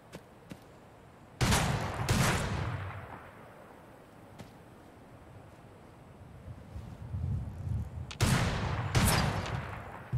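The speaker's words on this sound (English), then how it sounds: "Oh, somebody's shooting me." Enemy gunfire in the video game Fallout 4, survival difficulty, near a diner: two separate bursts of loud, close shots with ringing tails, the first early and the second near the end, over a low ambient wind bed.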